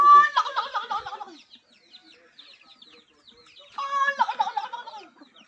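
Farm turkey calling in Mambusao, Capiz, two loud bursts of warbling, gobbling calls close to the microphone separated by a quieter pause.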